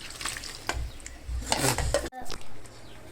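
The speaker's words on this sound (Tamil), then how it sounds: "பக்கத்துலேயே மீன் ரெடி ஆகிடுச்சு பொரிக்கிறது" Fish fries in oil in a pan while utensils stir and clink against the cookware, with a short break before the frying continues.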